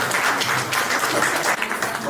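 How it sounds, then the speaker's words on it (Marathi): An audience at a naming ceremony claps for the grandparents, a brief burst of dense applause with a voice faintly over it. "तर आजी आजोबांसाठी ही टाळ्यांचा जोरदार गजर होऊ देऊया."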